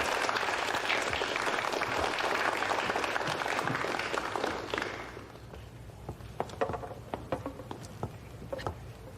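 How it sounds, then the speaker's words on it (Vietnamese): An audience applauds a solo violin performance at a dining venue in a 1940s Macau drama, with steady, thick clapping for about five seconds that then trails off into a few scattered claps. "Mời cho một tràng pháo tay."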